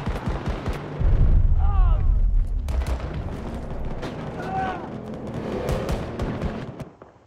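Enemy gunfire in the shooter game Battlefield 2042, a dense burst of loud shots and booms in the opening seconds, then scattered reports continuing under busy game sound effects.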